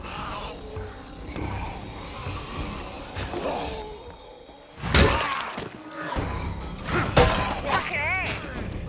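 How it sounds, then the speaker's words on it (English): Weapon in State of Decay 2 striking with a pot-smashing shatter, two or three sharp crashing impacts standing out over game ambience and background talk. "Did it have like a pot smashing sound?"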